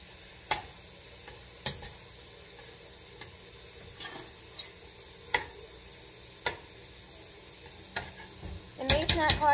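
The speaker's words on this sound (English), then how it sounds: "let me stir the meat" Meat for an Amish country casserole sizzles steadily in a pan while a utensil scrapes and taps it at regular intervals, ending in a louder burst of clattering stirring.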